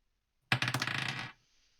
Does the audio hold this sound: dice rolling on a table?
yes